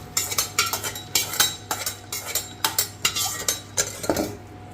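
A metal spoon clinks and scrapes rhythmically against a pan while stirring fried red chillies, curry leaves and mustard seeds for a tempering for tamarind dal, with sharp close knocks every half second or so over faint kitchen background.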